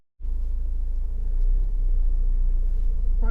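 A Honda CR-V 2.2 i-DTEC diesel Black Edition 4WD idles steadily at close range, its low, even rumble starting abruptly and holding a constant level throughout with no revving.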